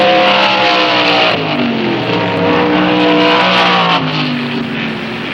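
Stock race cars, including car number 20, power out of a turn on a racetrack with loud, sustained roaring engines whose pitch rises and falls as several cars pass close by.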